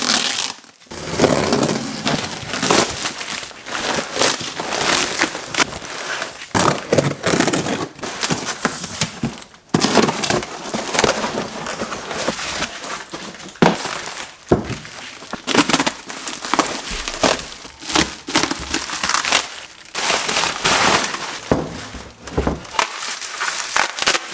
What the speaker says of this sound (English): So it showed up. Let's get it unboxed.